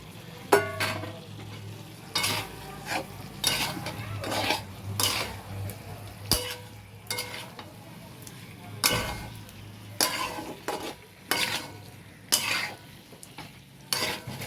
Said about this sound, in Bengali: ফুলকপি আলু দিয়ে নেড়ে চেড়ে নিয়ে